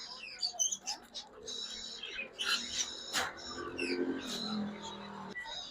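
Pet birds at a dealer's shop give off bursts of high chirps and tweets, the calls overlapping in quick irregular runs, with human talk mixed in the background.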